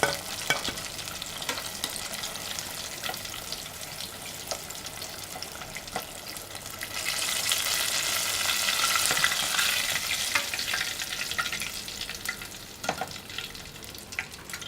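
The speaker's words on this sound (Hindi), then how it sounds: "ये देखें, अब ये अच्छी तरह फ्राई हो चुके हैं।" Crispy KFC-style fried chicken pieces frying in hot oil, a close, steady sizzle with occasional stirring clatter, swelling louder in the middle, with no talking.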